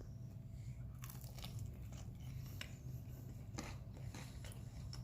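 Crunchy fried chicken karaage bitten and chewed at a ramen restaurant, a series of soft, close crunches and munching sounds over a low, steady room murmur.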